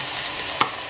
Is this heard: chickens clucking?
no